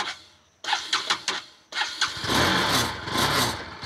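A motorbike engine starts with a few sputtering bursts, pauses, then fires up and revs steadily as throttle is given, loud and close with no talk.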